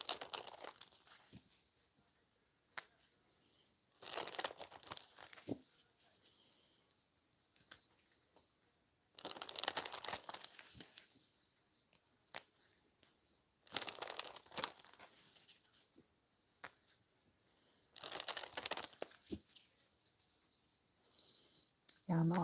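A deck of tarot cards is shuffled up close in five separate bursts of crisp riffling and rustling, each lasting a second or two, with quiet pauses between them.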